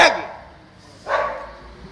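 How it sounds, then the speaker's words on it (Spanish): A female dog barks twice, loud and close, with a brief pause between the barks, amid a noisy indoor setting. "Coge la perra"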